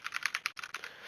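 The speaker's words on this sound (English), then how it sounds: "So that's my keyboard" Quick, uneven clicking of keys being typed on a laptop computer keyboard, a close run of light taps with a brief pause midway, quiet and alone without any voices.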